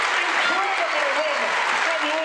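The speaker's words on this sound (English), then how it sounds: "The crowd loves it." Crowd applause and cheering at the Britain's Strongest Man 2016 competition, a steady dense roar of clapping throughout, with an announcer's voice audible over it.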